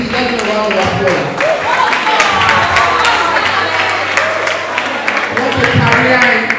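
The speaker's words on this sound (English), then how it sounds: "let's give a round of applause" A conference crowd at LCEW 2022 gives a round of applause, a sustained wash of clapping with some cheering, and a voice talks over part of it.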